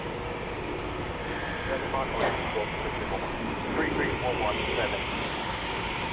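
A Eurofighter Typhoon FGR4 jet at RAF Coningsby takes off, heard as a broad, steady roar that holds loud throughout and rumbles from a distance, with radio chatter and voices talking over it.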